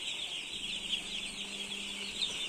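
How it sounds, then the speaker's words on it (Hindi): Small broiler chicks on a poultry farm make a dense, continuous chorus of high peeping that holds steady throughout, with a faint low hum underneath. "तो ये है हमारा बॉयलर पोल्ट्री फार्म का छोटे छोटे से"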